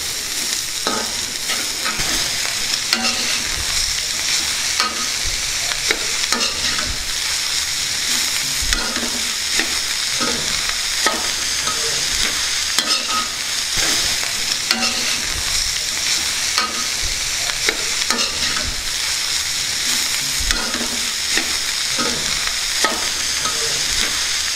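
A ladle stirs chopped cabbage frying in a pan with mint, a steady loud sizzle broken by frequent scraping strokes, close by and continuous, with no talking.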